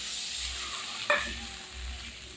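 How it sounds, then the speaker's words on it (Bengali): Hot oil left from frying prawns sizzles steadily, then a sudden burst of hissing spatter flares up as water is poured in and slowly settles back into a simmering crackle. "সেই তেলের ভিতরে আমি জল দিয়ে দেবো।"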